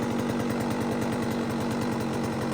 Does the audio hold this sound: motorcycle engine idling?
yes